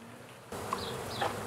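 Honey bees buzzing during a cutout of a colony from an RV cavity, a sudden close, dense swarm drone that starts partway and continues steadily, with no talking.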